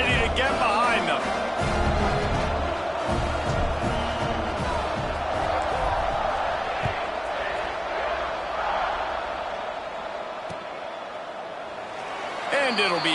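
Dense roar of a college football stadium crowd at a TCU versus North Carolina game, cheering just before kickoff, loud and continuous throughout with a commentator talking over it.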